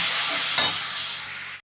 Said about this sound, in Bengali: একটু সামান্য জল দিয়ে মশলাটাকে ভালো করে কষিয়ে নেব